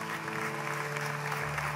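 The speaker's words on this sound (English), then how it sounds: "Come on, give the Lord a clap offering." A church congregation applauding together in sustained, dense clapping that stays steady and full throughout, with organ or keyboard chords holding underneath.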